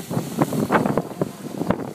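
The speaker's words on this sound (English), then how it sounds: "the wind's finally arrived that was forecast" Wind gusting around a sailboat at sea on passage from Lanzarote to Maderia, with rough buffeting on the microphone and irregular bursts of spray or wave noise rising and falling.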